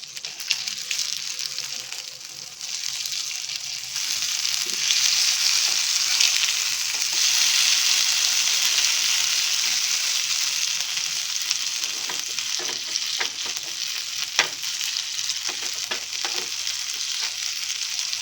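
Fish coated in green masala fries in a pan over a medium flame, giving a steady, fairly loud sizzle throughout with occasional sharper crackles and light scraping toward the end.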